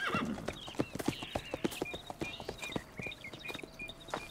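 Horses in Red Dead Redemption 2, hooves clip-clopping in a steady walking rhythm with a whinny near the start, close and clear with no talk over them.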